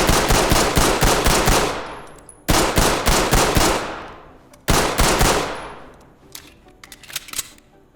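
Compact P228 pistol fired in the game Ready or Not: three loud bursts of rapid, sharp shots, each with a decaying ringing tail, then a few scattered fainter clicks and taps.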